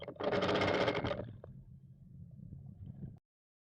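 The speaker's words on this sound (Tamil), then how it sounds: "இது பக்கத்துலேயே திருப்பி ஸ்டிச்சஸ் போடணும்" A sewing machine stitching invisible thread piping onto a blouse lining, with one loud close burst of rapid stitching for about a second, then a quieter low mechanical hum that stops abruptly.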